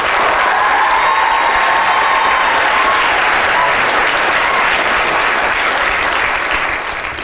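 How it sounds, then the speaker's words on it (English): A studio audience at a brain science presentation bursts into loud, continuous applause, a dense wash of clapping with faint cheering that holds steady for about seven seconds before easing off. "So give a big round of applause to Vince."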